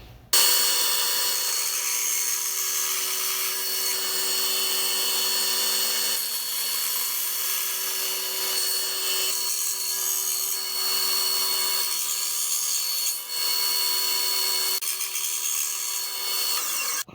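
Steady power-tool sawing through a wooden blank for a 7-inch minnow fishing lure, a continuous high whine that runs nearly unbroken for the whole stretch with slight dips, no talking over it.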